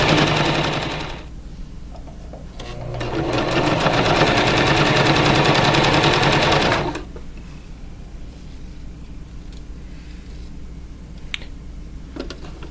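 Sewing machine stitching the side seams of a hoodie with stretch thread, a loud steady run of rapid needle chatter in two bursts, then quieter background hum with no talk.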